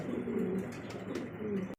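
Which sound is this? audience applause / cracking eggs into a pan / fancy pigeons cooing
fancy pigeons cooing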